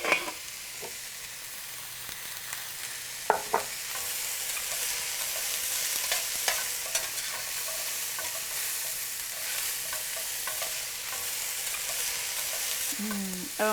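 Broccoli tops stir-frying for fried rice give a steady, close sizzle that runs the whole time, broken by occasional clinks and scrapes of a utensil in the pan.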